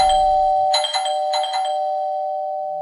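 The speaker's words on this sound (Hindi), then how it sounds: "कि तभी घर की डोरबेल बजी।" A doorbell chimes twice in clear, ringing tones that sustain and fade, with silence otherwise, as a sound effect within a Hindi horror story set in a Jodhpur house at night.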